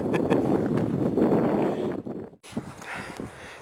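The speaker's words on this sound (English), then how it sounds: "The wind's blowing hard, the snow flurries every time it gets lifted and flurries up there." Hard wind blows across snowy ground in bitter cold around minus ten degrees, a steady broadband rushing and buffeting close to the microphone that briefly drops away near the end before gusting again.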